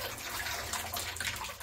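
Running water from a tap rinses a photographic print made with an 1851 technique, a steady close splashing stream with no voices.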